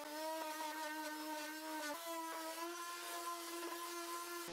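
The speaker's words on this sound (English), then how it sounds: "So I'm going to go ahead and grab our sander and some 80 grit sandpaper, and we'll go ahead and sand down the base" A power sander with 80-grit sandpaper works across a fiberglass speaker box base, giving a steady, close, high-pitched motor whine with a strong tonal buzz that dips briefly a few times.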